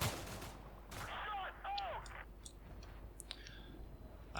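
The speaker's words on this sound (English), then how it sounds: "Oh no, he's taking some pot shots." Rifle pot shots in the Combat Mission Shock Force 2 video game: a few faint, sharp gunshot cracks and clicks, spaced irregularly over a low background.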